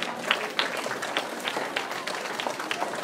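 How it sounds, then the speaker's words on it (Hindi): Crowd applause for coaches at an interschool karate championship in Gurugram, a steady patter of many hands with a few sharper claps standing out, moderately loud and sustained throughout. "तो अपने कोच के लिए तो तालियां बजाएं."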